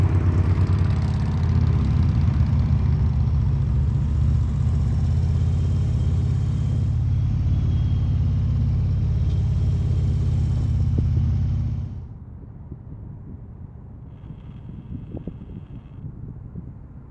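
A motorcycle engine at low speed, around 10 to 15 mph, gives a steady rumble for most of the clip, then cuts away abruptly to a quieter, lower background hum.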